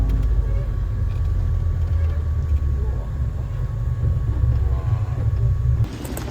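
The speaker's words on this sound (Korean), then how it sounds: "일단 아부사 기차역" Ambience at a small-town railway station in Italy: a steady low rumble of idling machinery and distant traffic fills the space, with a faint tonal hum running throughout and a brief brighter clatter near the end.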